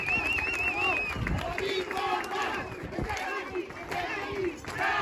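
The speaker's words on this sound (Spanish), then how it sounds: "Fuerte el aplauso para recibirla" A crowd at an elite 5K road race awards ceremony cheers, whoops and claps for the second-place woman runner, with a lively, continuous roar as an announcer speaks over the noise.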